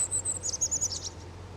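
A bird in Project Zomboid gives a quick series of high, thin chirps over faint ambient hum, clear but not loud, with no talk.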